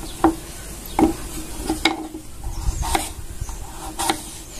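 A knife chops papaya into small pieces on a cutting board, the blade striking the board in irregular, sharp knocks spaced about a second apart. The chops are close and fairly clear, with no voices in between.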